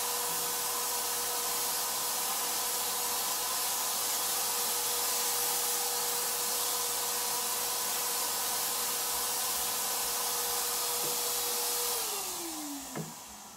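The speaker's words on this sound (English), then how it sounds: "it's pretty hard to hear me over the sprayer" Paint sprayer hissing continuously while applying metallic SetCoat paint, a loud broad rush with a steady motor whine that drops in pitch near the end as it winds down; no talking.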